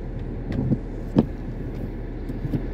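A car interior while driving, with a constant low engine and road rumble underneath and a few soft thumps and creaks from the cabin; no one speaks.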